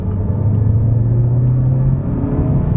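A Mazda 3 Sedan with the Skyactiv-X engine accelerates on the road, a steady low engine drone and rumble heard from inside the cabin, with a humming tone that holds and then fades into road noise.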